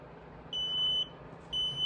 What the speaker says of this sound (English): 3:53, 30 seconds, and the alarm went off.